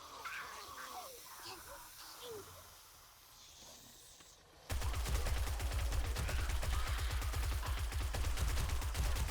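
Rapid, dense gunfire from a 7 Days to Die hotel raid erupts halfway through, loud and sustained after a quieter stretch of ambient game sound.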